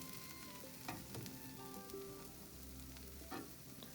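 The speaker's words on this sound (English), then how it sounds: "Cook for 2 minutes until the veggies are roasted nicely at the bottom and then flip it." An onion and tomato uttapam cooks in a pan, a faint, steady sizzle with a few soft clinks and knocks.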